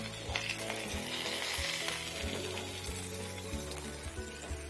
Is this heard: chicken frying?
yes